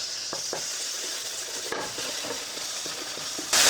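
A frozen garlic puck sizzles and fries in a pan alongside fresh jalapenos and onions, a steady hiss with occasional stirring scrapes and a louder burst of sizzle at the end, no talking.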